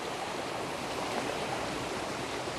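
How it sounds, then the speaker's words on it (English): Two rivers merge in a forest of very tall trees, their water producing a steady, broad rushing flow that holds even and unbroken throughout. "You can see two different rivers"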